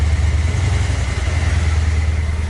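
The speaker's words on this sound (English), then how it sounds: "That was me, it blipped the throttle." A rebuilt Cammaster engine runs close and loud, a steady low rumble with a slight swell from a throttle blip and no talking.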